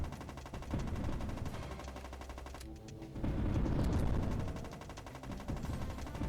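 Rapid bursts of gunfire from gun turrets in the PS2 overhead tank game Borderline, loud dense volleys with a brief gap before a heavier stretch of shooting.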